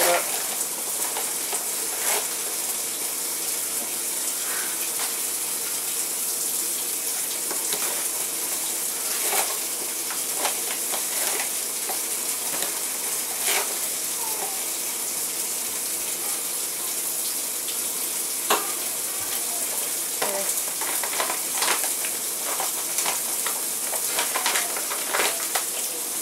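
A washing machine loaded with cloth diapers runs with a constant rush of water, scattered with small clicks and sloshing splashes for a long, even stretch.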